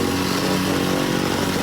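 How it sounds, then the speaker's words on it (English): A petrol plate compactor packing down hardcore for a gravel driveway base runs as a loud, steady, rattling engine drone close by, with no pauses. "everybody else can have a go with a whacker look"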